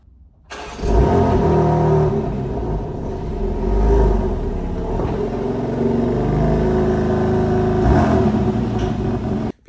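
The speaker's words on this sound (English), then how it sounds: "So I'm gonna roll the car into the garage and I'm gonna show you how to do it." A BMW with an aftermarket exhaust valve controller idles and rolls into a garage, its engine starting abruptly, then holding a steady mid-pitched rumble with swells in volume, fairly close and loud, with no talk.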